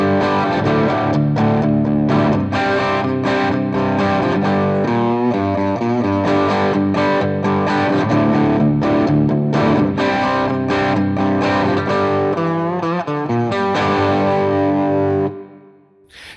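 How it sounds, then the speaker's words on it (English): Electric guitar working through a full chorus of a song, rhythmic chords broken up by repeated lead licks, with a driven tone played loud and continuous before a final ringing fade. "Okay, so a whole chorus following this idea would sound like this."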